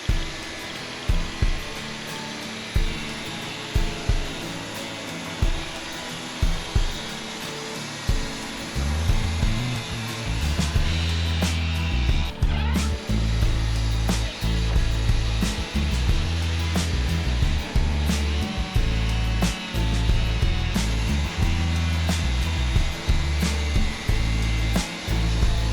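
A Wood-Mizer LT40 sawmill opens the first face of a log, starting with a series of sharp knocks and clunks before the band saw settles into a loud, steady droning cut that continues throughout.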